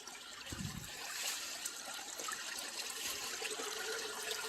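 Spring water trickling and splashing steadily over rocks in a shallow creek, close by and fairly soft, with no voices.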